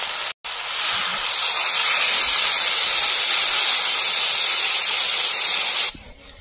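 Water poured into a frying Malabar spinach curry sets off a loud, sustained hiss and steam roar that runs steadily for several seconds, close up, then drops away abruptly.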